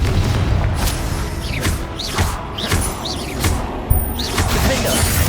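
Confringo explosion spells in Hogwarts Legacy go off as a series of repeated whooshing blasts, each a sharp burst with a swooping tail, over steady busy game ambience.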